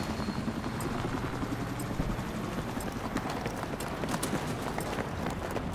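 A helicopter in Battlefield 3 on Kharg Island, in a large Conquest match, passes overhead as a continuous throbbing rotor wash with rapid rhythmic thuds over steady battlefield noise.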